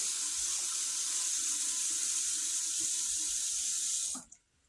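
Running water from a tap splashes steadily into a kitchen sink while dishes are washed with dish soap, close and continuous, then is shut off abruptly near the end.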